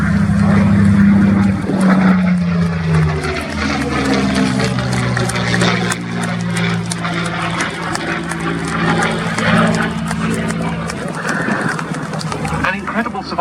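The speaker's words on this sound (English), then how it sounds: "Positioning now for its last manoeuvre from the Royal Netherlands Air Force historic flight," A Royal Netherlands Air Force historic flight Spitfire performs a display at an air show, its propeller engine droning steadily and loudly throughout, with a commentator talking over it.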